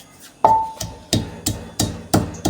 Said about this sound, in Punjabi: ਆਪਾਂ ਲਸਣ ਅਦਰਕ ਨੂੰ ਕੁੱਟ ਕੇ ਇਹਦੀ ਇੱਕ ਦਰਦਰੀ ਜੀ ਪੇਸਟ ਤਿਆਰ ਕਰ ਲਈ